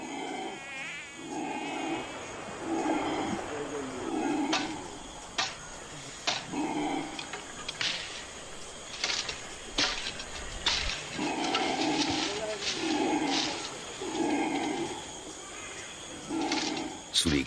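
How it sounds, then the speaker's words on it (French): Howler monkeys roar and cry in the jungle beside a river, with repeated loud bursts rising through the clip while someone narrates over them. "Sous les cris de protestation des singes hurleurs, nous installons 4 bâches imperméables."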